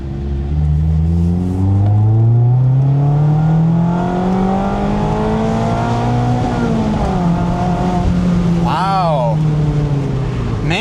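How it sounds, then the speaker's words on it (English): A Mazda Miata ND sport engine revs hard, its pitch climbing steadily for several seconds before a short drop, then sharp quick blips near the end, loud and close throughout. "Man, it just revs and revs."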